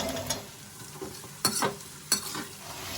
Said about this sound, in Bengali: এর সাথেই আমি ফুলকপিগুলোও দিয়ে দিচ্ছি এগুলো আমি একসাথেই ভেজে নেব